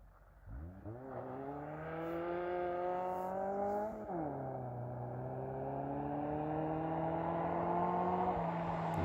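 A Honda buggy engine revs up through the gears, its rising harmonic whine climbing steadily, dropping at each shift and climbing again, loud and continuous with no talk over it.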